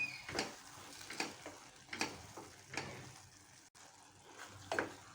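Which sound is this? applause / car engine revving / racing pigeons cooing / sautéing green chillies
sautéing green chillies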